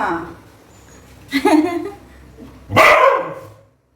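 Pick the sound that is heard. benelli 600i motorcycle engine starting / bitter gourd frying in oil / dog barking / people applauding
dog barking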